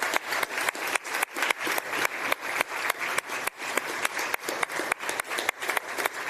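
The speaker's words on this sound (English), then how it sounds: "Please stand up and let's give them a big applause" A lecture hall audience applauds the teaching assistants with steady, dense clapping that carries on for several seconds at an even level.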